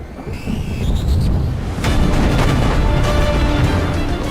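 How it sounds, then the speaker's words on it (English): Naval guns of Cleveland-class cruisers firing on the cruiser Sendai, a loud booming barrage with a heavy blast near the start and sustained rumbling broadband explosions that continue throughout. "This is when the Clevelands opened fire at cruiser Sendai."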